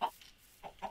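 A chicken in a video game gives a few short, quick clucks, close and fairly quiet, with brief gaps between the bursts.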